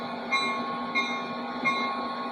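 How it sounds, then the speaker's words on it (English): A train runs in the Train Sim World 2 video game on PlayStation, giving a steady rumbling roll with faint tonal whines and soft rhythmic rail knocks repeating at regular intervals. "I'm playing the train game in PlayStation. The train game is named Train Sim World 2"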